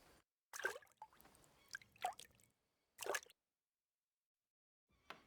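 Bath water sloshes in a wooden tub in Kingdom Come Deliverance 2. It comes as a few separate wet splashes and drips with quiet gaps between them, close and fairly soft.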